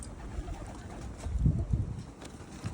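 Soft cooing of pigeons or doves near a nest where young birds are growing, low repeated coos at a moderate distance over a quiet outdoor background.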